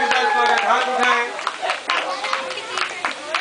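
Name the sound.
audience clapping to welcome performers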